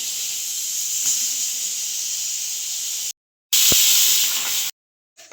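A pressure cooker cooking moong dal on a home kitchen stove gives off a steady, loud steam hiss that runs for about three seconds, stops, then comes back in a second shorter burst.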